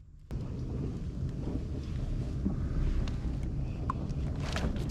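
Rough thunderstorm weather at sea heard from a saltwater fishing kayak: a low rumble of thunder rolls in, with wind buffeting and rain noise throughout, loud and continuous.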